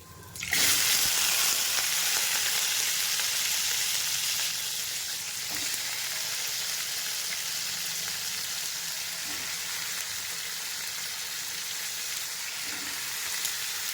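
Drained raw banana pieces go into hot oil with reddened garlic in a pan for arati kaya vepudu. A loud burst of sizzling rises as they drop in and then settles into a steady hiss, with a few faint stirring clinks.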